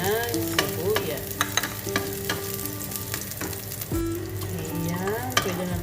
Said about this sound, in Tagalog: Ilagay ako ng bawang. Hintayin natin mag-golden brown bago tayo maglagay ng sibuyas